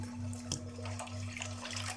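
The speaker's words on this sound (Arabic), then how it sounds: "انا بقى فتحت عليه الميه شويه كده في الحوض علشان نغسله مع بعض كده" Tap water runs steadily into a kitchen sink while fresh sea fish are washed, a continuous close splashing rush with a low steady hum beneath and small bursts as the flow hits.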